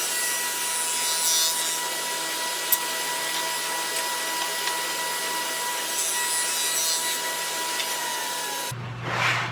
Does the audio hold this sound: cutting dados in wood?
yes